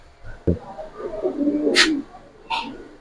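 A young silver racer pigeon gives soft, low cooing across the whole stretch, close by, with two brief sharp higher calls standing out near the end.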